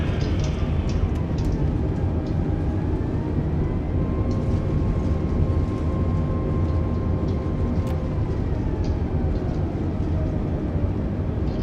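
A steady, loud airliner roar fills the scene as it takes off in Microsoft Flight Simulator 2020 at DFW, a constant engine drone with faint whining tones and no voices.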